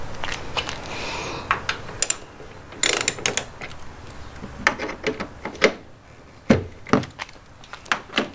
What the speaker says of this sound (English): we're gonna take out the Torx little bolts here